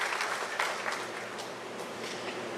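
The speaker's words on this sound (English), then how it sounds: "I really think you should give yourselves an amazing round of applause." An audience at a teachers' association convention gives a round of applause, continuous even clapping that stays steady and moderately loud for the whole moment.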